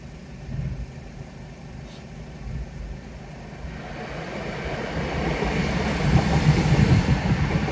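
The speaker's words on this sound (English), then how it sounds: "the tracks make a kind of vibrating noise" A train rumbles along the tracks, its low vibrating roar steadily building and growing louder as it draws closer.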